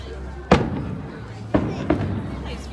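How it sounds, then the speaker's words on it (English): Fireworks burst in three sharp booms, one near the start, then two close together later, each with a brief crackling tail over a background murmur of people. "Fireworks."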